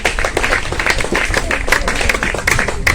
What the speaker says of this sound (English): Let's clap for the first speaker.